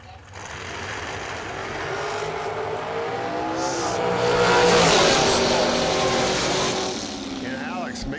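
Dragster race cars launch down a drag strip, their engine roar swelling to a loud peak midway before fading into distant rumble.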